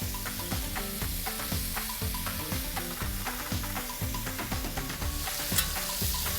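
Fish pieces frying in hot oil in a Malaysian cooking show, a dense, steady sizzle and crackle lasting throughout, fairly close, with a rhythmic musical beat running underneath.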